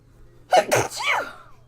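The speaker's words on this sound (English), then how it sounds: "I feel like I'm gonna sneeze" A single close, sharp sneeze with a quick inhale before it, in an otherwise quiet room.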